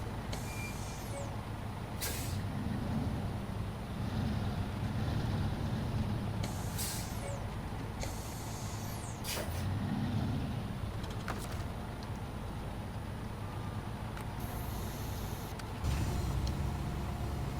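Air brakes on a heavy truck in the SnowRunner video game, sharp hissing releases repeating every few seconds over a steady low diesel engine rumble, with faint reversing beeps.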